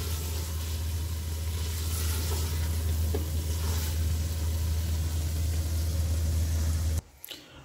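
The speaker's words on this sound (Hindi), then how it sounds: "इसके बाद 2-1 मिनट इसको और भूनेंगे।" Chicken masala frying in oil in a pot for a one-pot chicken dish, with a steady, loud sizzle running continuously for about seven seconds before cutting off abruptly.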